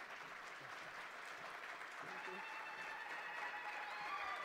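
Steady applause from a conference audience at a green hydrogen event in Namibia, a dense, even wash of clapping that holds at a moderate, distant level throughout with faint voices murmuring underneath.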